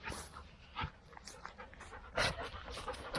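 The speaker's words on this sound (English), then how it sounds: "They're very happy dogs." Two happy dogs pant rapidly and close by outdoors, with brief whimpers and snuffles and a few bursts of handling noise.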